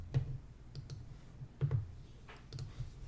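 Computer mouse clicking while working in building design software, a few quiet, sharp clicks spaced irregularly with no talk.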